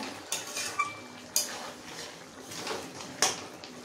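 A spoon scrapes and clatters against a pan while chicken kosa is stirred with garam masala, sugar and chopped coriander, giving a few sharp metallic knocks among softer scraping sounds.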